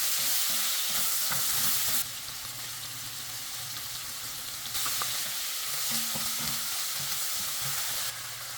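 Lean meat cubes stir-fried with minced ginger, sugar and chopped scallion whites hiss in a hot wok, a steady broadband sizzle swelling louder in bursts as the pieces are tossed, with a faint low hum beneath.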